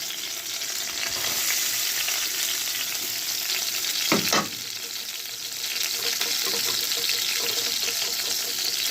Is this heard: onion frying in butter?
yes